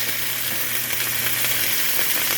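Turkey pieces frying in bacon grease give a steady, close sizzle with a hiss and faint crackles throughout, with no talk.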